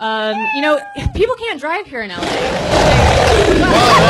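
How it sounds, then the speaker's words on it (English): A cat sound effect plays at a comedy show, a strained meow-like yowl after someone speaks, followed by loud crowd noise and laughter filling the rest. "That was a cat."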